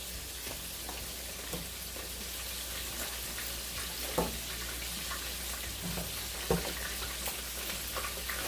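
Korean BBQ wings cooking in a pan over high heat with brown sugar and water, a steady crackling sizzle broken by occasional sharper stirring knocks, fairly quiet and close.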